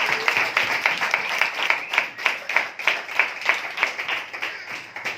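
Audience applause at a Hindi-language church service welcoming participants who joined online, a steady rhythmic clapping from a moderate-sized crowd, fairly close and sustained, with no talk over it.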